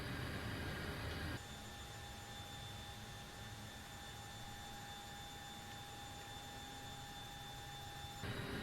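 A simulated iFly 737 Max 8 jet engine in Prepar3D turns over during start with a steady broadband rush and a thin sustained whine, shifting level abruptly early on and holding constant without talk.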